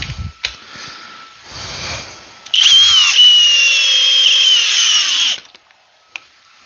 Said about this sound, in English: So turbo is on, and it is in speed 2 drill mode.